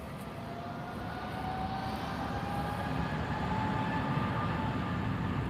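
A TAP Air Portugal Airbus A320neo at Lisbon Airport gives a steady, moderately distant engine roar with a faint tonal whine, holding constant and slightly swelling through the span with no voices.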